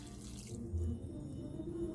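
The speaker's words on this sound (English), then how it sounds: "I'm gonna add 2 more cups of water in mine." Water from a tap runs steadily into a pot of simmering lima beans and okra, a continuous close splashing pour lasting a couple of seconds with no talking.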